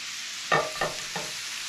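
An apple grilled cheese sandwich is turned over in a hot pan, giving three short sizzling bursts of frying over a steady background hiss.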